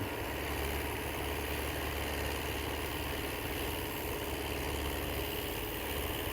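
A New Holland 850 tractor's diesel engine idles in a steady, even low rumble with constant mechanical hum, close and unchanging, with no voices.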